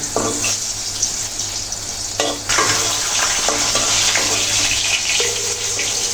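Brinjal fritters fry in hot oil with a loud, close, continuous sizzle, broken by a sharp clatter of the pieces being moved and a few lighter scrapes as they are turned, with no voices.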